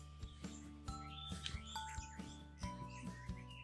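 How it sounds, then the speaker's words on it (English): Small birds chirp at a quiet campsite, giving short repeated tweets and calls at a faint, moderate distance over low background hiss, with no voices. "you can only hear the birds chirping."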